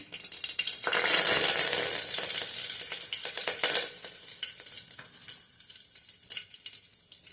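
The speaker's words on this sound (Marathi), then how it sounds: "मोहरीचा छान तडतड आवाज आला" Close, loud sizzling and rapid popping of mustard seeds crackling in hot oil, fierce at first then settling into scattered crackles.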